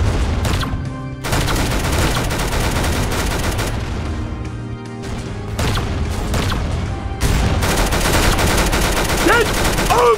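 Video game gunfire during a boss fight, dense rapid bursts of shots and booms, loud and nearly continuous with brief pauses.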